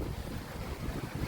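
Strong rainy wind on Jeju Island roars steadily against the microphone in a brief, gusty low rush with no voices.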